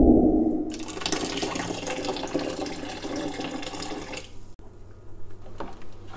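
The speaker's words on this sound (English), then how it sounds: "So I'm going to make a cup of tea and pour it in the" Hot tea poured into a strawberry wine must made from frozen strawberries, a steady splashing, trickling pour lasting several seconds close by, tapering off near the end.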